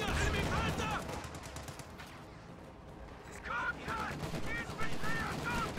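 Bursts of gunfire and autocannon fire in a video game battle, with an AA half-track firing and a flamethrower pushing up a flank, crackling in rapid, dense volleys at mid distance and rising again toward the end.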